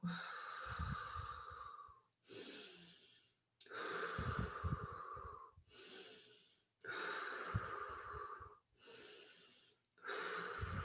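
A group doing a deep breathing exercise together, hands on stomachs, drawing long breaths in and pushing them out in a steady rhythm: several loud, close, rushing breath cycles separated by brief pauses.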